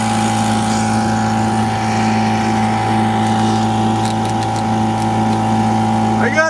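A pull-start outboard motor on a small boat runs at a steady, loud idle nearby, its hum even and unbroken throughout.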